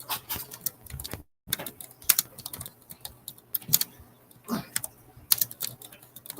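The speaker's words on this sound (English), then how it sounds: "And I'm typing it right now." Rapid typing on a computer keyboard sounds close up, an uneven patter of clicky keystrokes in quick bursts with brief pauses between them, and no one speaking.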